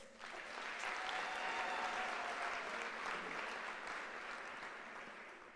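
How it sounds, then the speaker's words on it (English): Sustained audience applause at the University of South Africa's 150th anniversary celebration, a dense, steady wash of clapping that rises quickly, holds for several seconds and tapers slightly near the end, with no speech over it. "please give Unisa 150-year Mabatu a round of applause."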